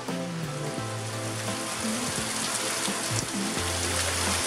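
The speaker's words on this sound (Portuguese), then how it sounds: "E tome chuva agora lá do refeitório." Steady rain pours outside, heard from inside a dining hall, a dense continuous hiss of falling water with a low, constant hum beneath it.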